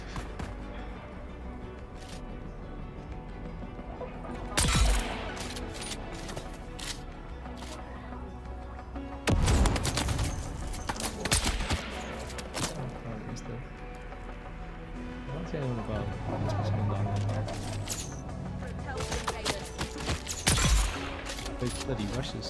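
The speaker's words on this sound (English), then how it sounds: "He's firing at me." Enemy gunfire in the game Dune Awakening: bursts of rapid shots come in waves several seconds apart, loud and dense, over a continuous game soundscape with a voice at times.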